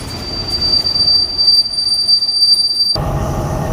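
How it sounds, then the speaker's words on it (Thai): Commuter train 342 pulls out of Chiang Rak station in Thailand, its wheels giving a loud, sustained high squeal over heavy rumble, which breaks off sharply into rolling clatter. "ให้สัญญาณปล่อยขบวนรถชั้นเมืองที่ 342ครับออก จากสถานีเชียงรากแล้วนะครับ"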